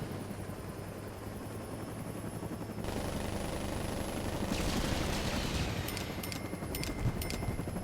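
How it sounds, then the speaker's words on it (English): A helicopter gunship in Saints Row (2022) flies with a steady, loud rotor drone that thickens partway through, and rapid clicking bursts like gunfire sound toward the end; no one talks. "Helicopter?"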